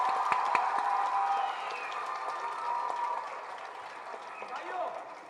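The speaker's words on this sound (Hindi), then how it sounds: "हिकमत अमली पे तालियां होनी चाहिए।" Theatre audience applause fills the hall as a dense wash of clapping and crowd noise, loud at first and then thinning out, with voices carrying over it.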